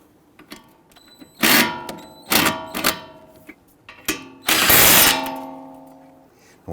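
A ratchet snugs down the brake caliper bolts on a 2011-2023 Dodge Charger in several short, loud bursts of clicking, with quiet gaps and a fading ring between them.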